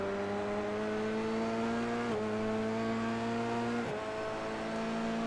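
An F3 race car in a sim racing game at Brands Hatch climbs up through its gears, a steady engine drone broken by two quick shift dips as the pitch steps down and rebuilds, loud and constant with no voices.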